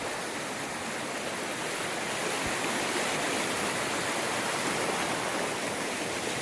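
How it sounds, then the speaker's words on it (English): A river rushes in a steady, broad roar that stays loud and unchanging throughout, close at hand, with no voices over it. "Yeah, it's a nice river."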